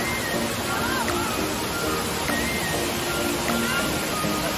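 Rushing water at Tirathgarh waterfall makes a steady, dense roar that stays constant throughout, with faint voices and a few brief tones buried beneath it.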